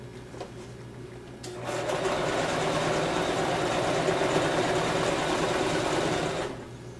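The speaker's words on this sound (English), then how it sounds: "So I'm just going to go ahead and keep sewing it." A sewing machine stitches a seam on a handmade puppet, a loud, even mechanical whir that starts after a moment of quiet, runs steadily for several seconds, then stops.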